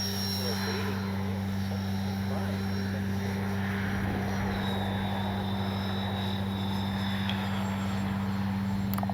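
Flightline OV-10 Bronco RC plane with twin propellers making a touch and go, a steady droning engine whine with strong low hum running continuously at moderate distance, pitch shifting slightly partway through.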